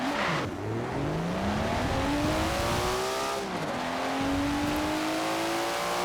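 A Nissan Skyline R34 in Forza Horizon 4 launches from about 5,000 RPM, its engine revving and climbing through gear changes with rising, falling pitch sweeps, loud and close.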